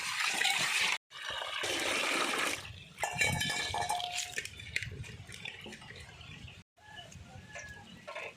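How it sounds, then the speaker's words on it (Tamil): Murrel fish being rinsed with salt in water, heard as bursts of broadband splashing and sloshing that stop and start, with chickens clucking nearby. "உப்பு போட்டு நல்லா அலசணும்."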